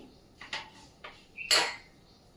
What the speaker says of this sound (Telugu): ప్యాన్ హీట్ ఎక్కిన తర్వాత పల్లీలను వేసి వేపుకోవాలండి